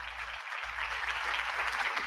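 Studio audience applause welcoming Dr. Mark Goulston onto a live show, a steady dense patter of clapping held at an even level for about two seconds with no talking.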